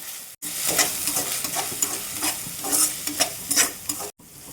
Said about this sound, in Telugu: ఈ అల్లం చిన్నెల పేస్ట్ ద్వారగా పచ్చివాసన పోయేంత వరకు ఫ్రై చేద్దాం